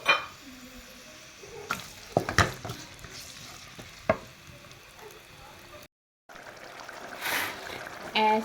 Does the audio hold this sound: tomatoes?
yes